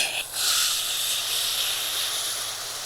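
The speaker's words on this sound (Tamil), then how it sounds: "இப்போ இந்த கொதிக்கிற தண்ணியை ஊற்ற போகிறோம்." After a brief pause, boiling water is poured onto roasted semolina in a pan with a loud, steady steaming hiss that holds for a few seconds before easing slightly.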